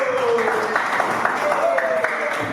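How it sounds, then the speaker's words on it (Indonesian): A class audience applauds a student group, with lively, steady clapping for a few seconds mixed with voices speaking over it. "Tepuk tangan yang meriah dulu"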